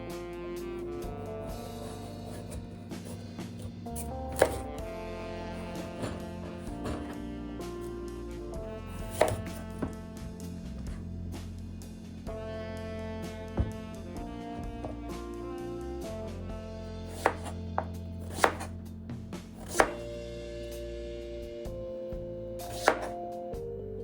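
A knife chopping pumpkin into small bite-sized pieces on a board, with irregular quiet thuds spread across the clip beneath a soft continuous background of music.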